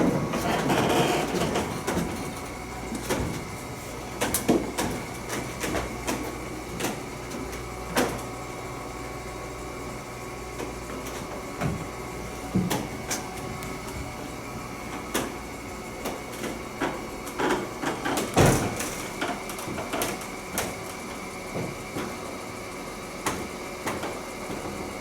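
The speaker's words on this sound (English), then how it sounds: "We're gonna ride the elevator" A 1920 car elevator lifting a pickup truck gives a continuous mechanical hum with repeated clanks, ticks and creaks throughout, one louder knock partway through, heard close and alone without talk.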